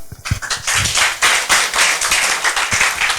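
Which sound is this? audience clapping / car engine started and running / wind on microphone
audience clapping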